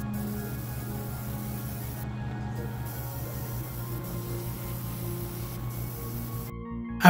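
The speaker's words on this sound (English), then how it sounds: "I then moved to the spray booth and started blasting." An airbrush sprays brown paint onto a Wolverine model inside a spray booth, a faint steady hiss over the booth's low constant hum, with brief pauses in the spraying.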